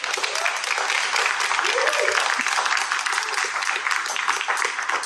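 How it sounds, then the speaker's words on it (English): A crowd at a tech networking mixer claps continuously at moderate loudness, with faint voices woven underneath. "Give them a round of applause"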